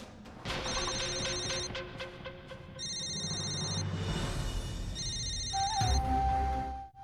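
A telephone rings in repeated bursts over a dramatic music score, the electronic trill loud and steady, pausing briefly between rings.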